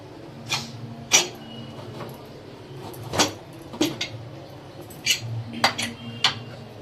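A cooled pressure cooker used for cooking peas is opened, its metal lid and pot giving several sharp clinks and clanks at irregular intervals over a quiet kitchen background.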